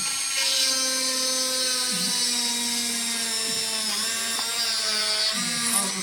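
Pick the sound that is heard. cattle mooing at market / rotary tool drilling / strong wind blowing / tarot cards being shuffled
rotary tool drilling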